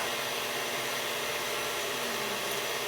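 An electric mixer whirs continuously while whisking tiramisu ingredients, a steady, close, high-pitched motor drone with no talking over it.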